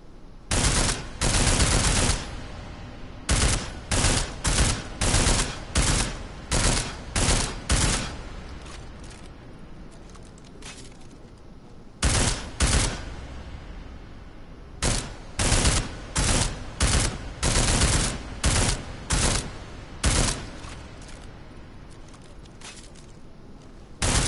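Gunfire at a shooting range in Deus Ex: Human Revolution: loud, close bursts of rapid shots in rhythmic clusters, with a quiet pause in the middle and no talk over them.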